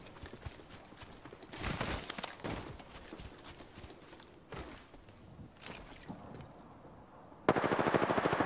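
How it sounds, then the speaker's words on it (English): Gunfire aimed at the player in Apex Legends, scattered sharp shots with bursts of rapid fire, some near and some distant, ending in a loud sustained burst. "Listen up, I'm getting shot at. I'm taking fire."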